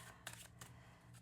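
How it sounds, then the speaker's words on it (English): Tarot cards being shuffled by hand in several quick riffling bursts, fairly faint and close, with no talking over them. "Shuffle for the one time, for the one time."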